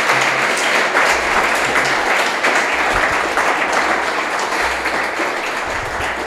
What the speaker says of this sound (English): can we get a round of applause for Jorgey and Mike Frost?